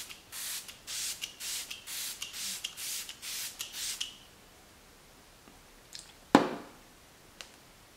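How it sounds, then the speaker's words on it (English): Smashbox Photo Finish Primer Water setting spray fires in about nine quick hissing spritzes over four seconds, close and crisp, followed by quiet handling taps and a sharp clack of the bottle. "This is the Smashbox Photo Finish Primer Water Set and Refresh Spray."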